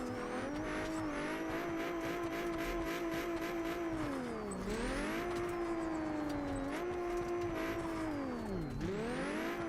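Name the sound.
drifting car engine in BeamNG or Assetto Corsa video game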